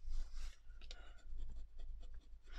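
A bone folder rubs and burnishes across A4 card in short scraping strokes, quiet and close, with a low hum underneath.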